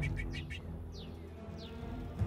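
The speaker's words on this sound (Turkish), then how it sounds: "Bak kuş ötüyor." A small bird chirps a few quick notes, then gives two separate rising whistles, faint over a low background rumble.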